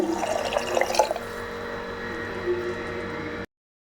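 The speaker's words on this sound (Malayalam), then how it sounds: "ഒരു ഗ്ലാസ് വെള്ളം കൂടി ഒഴിക്കുന്നുണ്ട്" Water pours steadily into a pressure cooker, splashing louder at first then settling into a smooth running flow before cutting off abruptly.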